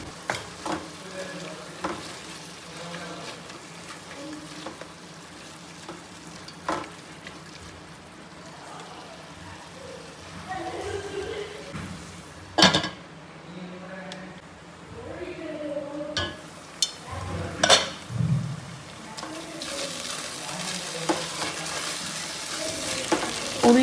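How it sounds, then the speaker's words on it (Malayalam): Ground ginger, garlic, onion and green pepper are stirred in a frying pan with a soft continuous sizzle. Scraping and clinking sounds recur throughout, and someone talks intermittently. "ചേർത്ത് കൊടുത്തിട്ടൊന്നും കൂടെ ഒന്ന് നല്ലതുപോലെ ഒന്ന് ഇളക്കിയെടുക്കാം."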